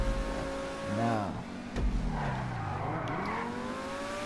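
A stock car engine revs hard in GTA Online, the pitch climbing, dropping sharply and climbing again as it pushes past high speed, loud and continuous throughout.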